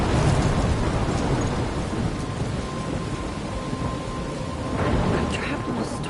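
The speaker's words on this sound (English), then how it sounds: "I'm trapped in a storm?" Thunderstorm with rain in the video game Life is Strange: steady heavy rainfall hisses throughout while low thunder rumbles swell and recede, loudest near the start and again toward the end.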